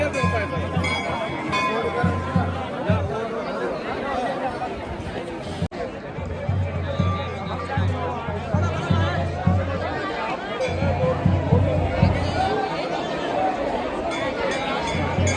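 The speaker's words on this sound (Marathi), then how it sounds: "खूप गर्दी आहे इथे" A dense crowd of pilgrims chatters in a long queue at Gangotri Dham in Uttarakhand, continuous overlapping voices close by with occasional clinks and shuffling and no single voice standing out.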